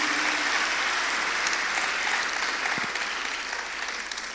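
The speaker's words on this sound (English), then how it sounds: "Let's give him another round of applause" An audience at an education address in Ghana gives a steady round of applause, a continuous wash of clapping that holds fairly level before easing slightly at the end.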